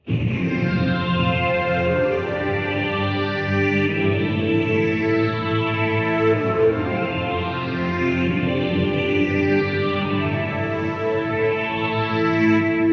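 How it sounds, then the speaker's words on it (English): Boss SY-200 synthesizer pedal with the Terra Echo effect and a short plate reverb, producing a sustained, phased string-pad tone with slowly sweeping, shimmering movement, dense and steady throughout with no voices. "So the Terra Echo's got this like weird spatial thing happening, and with that phased string pad kind of sound, it just fills out"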